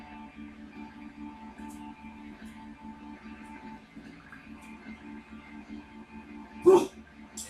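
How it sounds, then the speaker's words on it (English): A pet dog gives one short, sharp bark near the end, loud against a steady hum of background sound from an MLB 15 The Show baseball game. "doggy barking because she heard noises"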